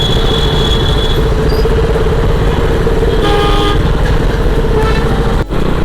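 Vehicle horns honk in a night traffic jam on the Mumbai-Goa highway near Kolad, a long steady toot joined by shorter blasts over a dense rumble of idling engines and traffic, heard from a motorbike.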